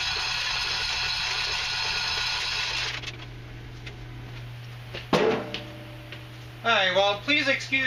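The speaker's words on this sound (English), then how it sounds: "Excuse the furnace because it's rather cold out right now." A home furnace runs in a cold room as a low, steady hum with faint ticking. It stops partway through, and sharp knocks and a brief whistle follow.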